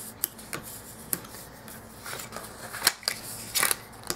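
Cardstock being folded and burnished with a bone folder after scoring, a run of crisp crackles and rubbing scrapes with a few sharper ticks, close and moderately loud, no speech.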